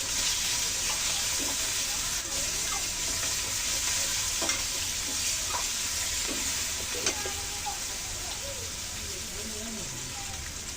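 Chopped onion with a little turmeric fries in a pan. A steady, close hiss of sizzling oil runs throughout, broken by occasional light clinks and scrapes of stirring.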